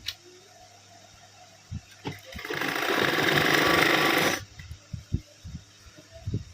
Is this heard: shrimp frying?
no